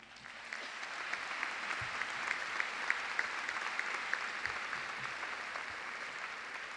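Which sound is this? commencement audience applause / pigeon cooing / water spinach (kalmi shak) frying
commencement audience applause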